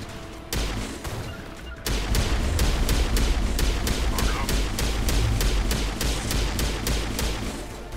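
Rapid gunfire in the video game Mass Effect Legendary Edition, a shotgun and a pistol firing during the Virmire mission, with loud sharp shots repeating at a fast, steady pace after a brief pause near the start.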